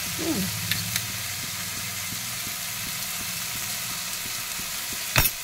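Poppy seed paste with paneer fried and stirred in a pan, a steady soft sizzle under a low hum, with faint spoon scrapes and a sharp clatter near the end.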